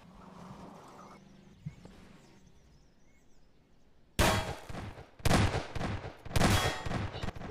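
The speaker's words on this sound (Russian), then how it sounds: "Она по нам стреляет." Heavy gunfire erupts in Garry's Mod as police open fire on the players: after a quiet stretch, loud rapid bursts of shots hit in three dense volleys, close and sharp.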